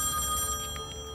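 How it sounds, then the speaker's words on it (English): An old telephone bell rings steadily in the horror video game Song of Horror, a bright metallic trill over a low, rumbling ambient drone, with no talk. "The phone. Where is it? Should I answer? Where is the phone?"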